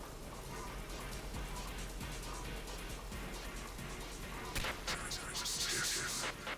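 Sniper gunfire in the video game Peripeteia, a dense crackle of distant shots under a constant background roar, with a louder, brighter burst of fire near the end.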